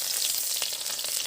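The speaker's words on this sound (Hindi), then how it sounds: "तो कढ़ैया गरम कर लिए हूँ, अब हम तेल डाल दूँ।" Oil heating in a kadhai before rice is fried in it, a dense close hiss and crackle of hot oil, loud and continuous, with a few brief sharper pops and no talking.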